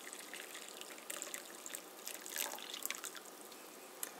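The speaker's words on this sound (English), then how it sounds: "you pour the strong coffee into this mug" Strong coffee poured into a mug, a quiet liquid trickle with soft splashy bursts that swell in the middle and taper off.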